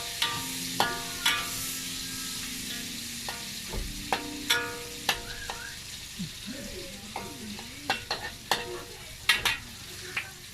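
Onion goes into a pan for a village-style salted fish and Sarawak pineapple dish. It fries with a steady sizzle, broken by repeated clinks and scrapes of a utensil against the pan. Faint voices sound in the background.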